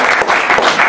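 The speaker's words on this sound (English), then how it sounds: "A round of applause for Andrew" Audience applause at a talk, a dense and loud burst of clapping that fills the whole moment without talk.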